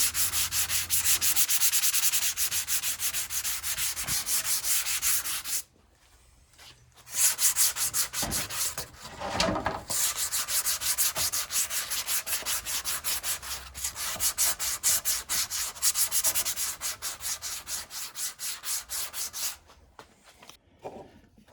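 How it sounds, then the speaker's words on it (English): Hand sanding of Porsche 914 rocker panels with 120–150 grit sandpaper: steady, close rasping strokes that run continuously, stop briefly around the middle, then resume in a long even rhythm. "I'm just letting the sandpaper do all the work."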